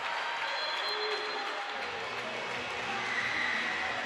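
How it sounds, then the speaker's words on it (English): An excited crowd at a college volleyball match between Huntington and Indiana Wesleyan keeps up steady, dense applause and cheering for several seconds, a broad continuous wash of clapping filling the gym. "An excited crowd"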